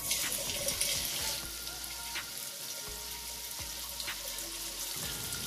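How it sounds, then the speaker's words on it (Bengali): Mihidana batter drops into hot oil in a pan, a steady, faint broadband sizzle with scattered crackles and pops running throughout. "এবার আমি তেলের মধ্যে মিহিদানাগুলো ছেড়ে দিচ্ছি।"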